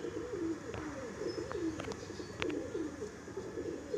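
Madrasi pigeons of the Arshad and Dasu breed coo in low, rolling, repeated calls that overlap one another. A few sharp clicks and chirps break in, close and steady, with no speech.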